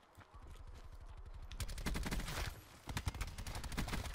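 Rapid automatic gunfire in the video game Call of Duty Black Ops 4, a dense stream of loud close shots that briefly eases, then resumes in sharp bursts.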